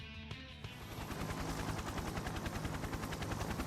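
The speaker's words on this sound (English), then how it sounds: "Simultaneously, the faint sound of a helicopter becomes evident." A helicopter approaching in the video game Persona 4 Arena Ultimax, its rotor a steady, rapid thumping chop that builds quickly after a brief lead-in and stays loud and dense throughout.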